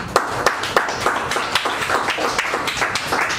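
Sparse audience clapping at a Kampala forum held at Victoria University, a handful of hands giving irregular, fairly close claps with no cheering.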